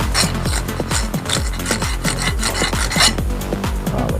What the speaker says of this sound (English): I'll take my flat file.